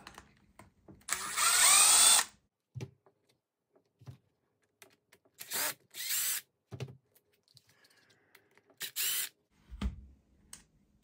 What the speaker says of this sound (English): now we should be able to take this differential cover off. So let's just take these screws here off.